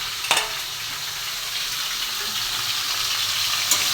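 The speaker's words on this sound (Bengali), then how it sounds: "আর এই যে ওলের তরকারিটা কষানো হচ্ছে" Elephant foot yam curry sautéing in a pan, giving a steady close sizzle with a soft, even hiss throughout and a couple of brief clicks of stirring near the start and end; no voices.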